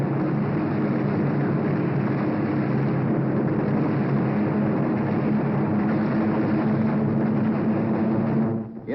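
A WWII aircraft dives low over a Japanese-held island, its engine a loud, steady, unbroken roar that holds for nearly nine seconds before dropping away abruptly at the very end.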